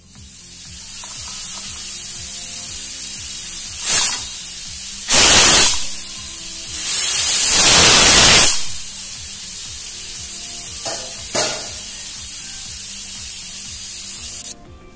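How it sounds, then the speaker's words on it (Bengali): A pressure cooker holding mutton curry vents steam in loud, broadband hissing whistle bursts: two long blasts and a few shorter puffs over a steady background hiss, with no talking. "এবার ঢাকনাটা বন্ধ করে 3টা সিটি আসতে দিব।"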